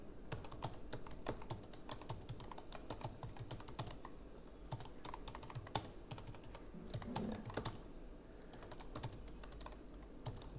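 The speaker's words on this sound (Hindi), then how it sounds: "यहां पर एंटर करेंगे, फिर एंटर करेंगे, अब टैब दबाएंगे" Computer keyboard keys, including Enter and Tab, are pressed in a steady, quiet stream of soft clicks that continues throughout, with no talking.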